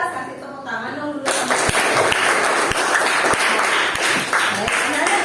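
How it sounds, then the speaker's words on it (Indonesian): A class of pupils bursts into loud, steady applause after a teacher's prompt, close and lively clapping that goes on for several seconds with speech just before it. "Kasih tepuk tangan dong dulu."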